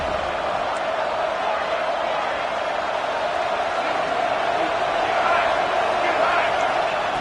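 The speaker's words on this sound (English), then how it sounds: "The crowd is roaring, trying to help this defense on fourth down." A stadium crowd in an American football video game roars steadily during a fourth-down play, a dense, continuous wash of noise that swells slightly near the end, with no clear voices on top.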